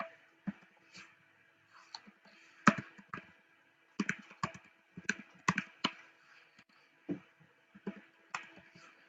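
Keys on a computer keyboard typed in uneven bursts to enter a street address, with crisp close clicks and brief pauses between groups of keystrokes.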